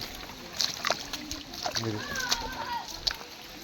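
Uneven splashes of feet moving through shallow hill-stream water on a pilgrimage walk to Srisailam, close by, with voices talking over the sloshing.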